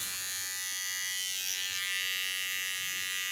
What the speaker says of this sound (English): Don't force anything because a clipper can bite into the skin.